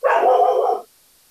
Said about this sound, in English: I know my dog, she's really pissed about this conversation